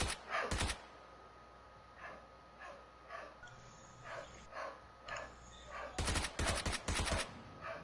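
Gunfire in the battle-royale game PUBG: a loud burst of rapid automatic shots at the start, a scatter of fainter, more distant shots through the middle, then another heavy close burst near the end.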